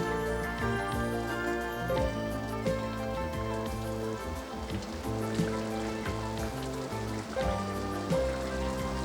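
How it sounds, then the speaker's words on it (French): Rain pours in an animated cartoon as a soft, continuous hiss of falling drops beneath prominent tonal music that carries through the whole stretch. "Il pleut depuis des jours et des jours."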